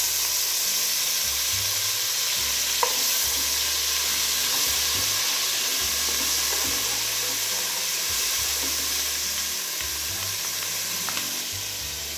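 Continuous sizzling and frying hiss from garlic ginger paste in hot oil, steady and close, with occasional faint clinks of a utensil.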